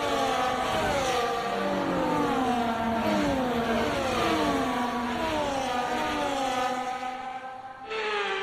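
Formula One race cars on the formation lap at the Bahrain Grand Prix in F1 24, a loud, continuous whine of several high-revving engines rising and falling in pitch and overlapping as they circulate.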